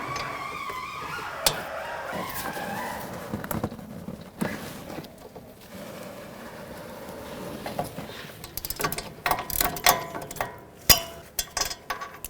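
Wrench work on a 13mm rear brake caliper bolt on a 2007-2009 Saturn Aura, with scattered metallic clinks and ratcheting clicks, sparse at first and then busier and sharper near the end.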